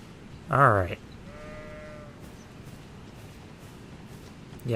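A sheep in the video game Elden Ring gives one loud, close bleat, followed by fainter tonal game sounds and ambience, with another sound starting right at the end.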